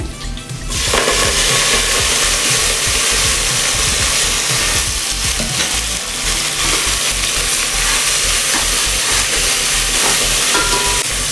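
Fenugreek leaves fry in a pan with a loud, dense, steady sizzle that bursts up after a brief quieter start and carries on unbroken, close and with no voices.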